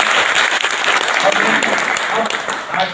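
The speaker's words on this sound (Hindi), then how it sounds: "आप लोग एक बार जोरदार तालियों से उनका स्वागत करें।" Loud, dense applause from a crowd welcoming a speaker at a meeting of traders and police officials, sustained and steady throughout with no pauses.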